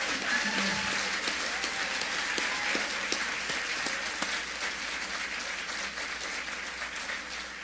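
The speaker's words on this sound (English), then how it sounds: "please give another round of applause to Jason Graham." Steady applause from an audience at a Big Read finale event with poet Ross Gay, a dense wash of clapping that holds evenly throughout at moderate loudness.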